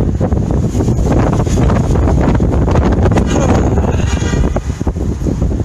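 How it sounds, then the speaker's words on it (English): Strong outdoor wind buffets the microphone in a loud, continuous roar with gusting surges throughout, broken only by brief dips. "it's too windy"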